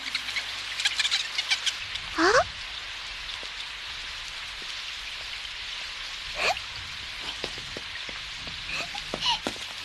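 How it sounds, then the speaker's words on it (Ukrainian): Steady rain falls outdoors, a continuous close hiss of drops hitting surfaces, with a few faint bird chirps breaking through now and then. "Погода сьогодні не дуже хороша, правда? Але я рада, що дощить не щодня."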